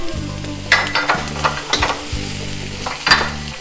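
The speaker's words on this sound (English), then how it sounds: "now we will add the onions, the red peppers," Onions and red peppers stir-frying in a wok for shrimp stir-fry, a loud steady sizzle broken by repeated metallic scrapes and tosses of the spatula at irregular intervals.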